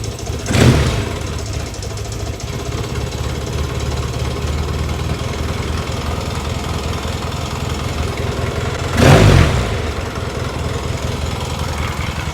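A 1978 Yamaha XS650 motorcycle engine idles steadily after winter storage, a close, continuous low chug with two brief louder bursts, one near the start and one near the end.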